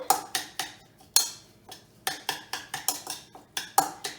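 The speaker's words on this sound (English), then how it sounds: "I'm gonna put our dill in there and kind of mix that in." A utensil clinks and scrapes against a bowl while dill is mixed into Greek dressing, giving a close, uneven run of sharp taps and knocks with short pauses and no talk.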